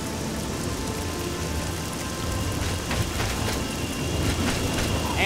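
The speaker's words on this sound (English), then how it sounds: "And it's raining." Heavy rain falls continuously in the video game Oblivion, a dense steady hiss with a low rumbling undertone like distant thunder, growing slightly louder toward the end with no talking.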